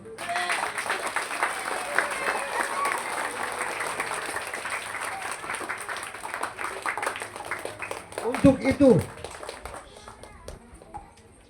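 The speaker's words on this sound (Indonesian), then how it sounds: "Tepuk tangan dulu." Applause from a gathered crowd at a school's ninth anniversary ceremony, sustained clapping for several seconds before it fades, with a brief voice cutting in near the end.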